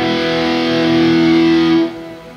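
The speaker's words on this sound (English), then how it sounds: "So there's your reverb with the shimmer and we're rocking." Electric guitar played through the Neural DSP Archetype Gojira plugin with a shimmer reverb, a loud distorted sustained chord ringing for about two seconds before cutting off into a fading reverb tail, with no talking.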